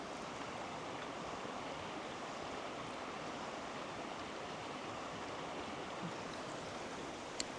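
A stream flows nearby in a quiet continuous rush of water, steady and faint, with no voices over it.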